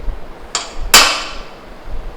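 A hammer strikes a punch to mark a broken screw for drilling on a 1996 Kawasaki KX100 motorcycle, two sharp metallic taps in quick succession, the second louder and ringing briefly.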